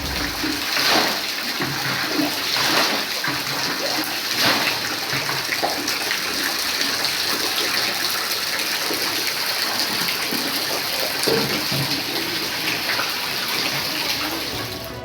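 Floodwater from heavy rain and an overflowing canal gushes into village houses in Kanyakumari district, a loud, continuous rush of flowing water heard close, with no talk.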